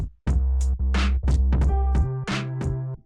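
Drum loop in Soundtrap run through a distortion plugin, giving a gritty lo-fi character to punchy kicks and crunchy snare and hat hits, loud and alone over a held low tone.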